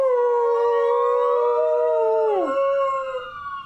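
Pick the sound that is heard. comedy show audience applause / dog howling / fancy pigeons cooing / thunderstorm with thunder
dog howling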